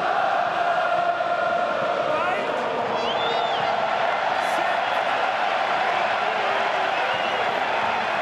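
A large French crowd cheers and roars steadily at a France v England Six Nations rugby match in a stadium, a dense continuous wall of noise with whistles rising above, a commentator talking over it.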